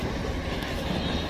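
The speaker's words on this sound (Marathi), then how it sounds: "ही रेल्वे चाललेली आहे" A train rolls past near a market street, a steady, loud broadband rumble filling the short moment without breaks.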